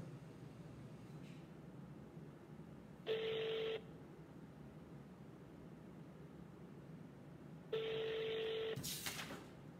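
A telephone number is dialed on a phone before a call to a Prime Minister's cell phone, heard as two short tone bursts a few seconds apart over a steady background hiss.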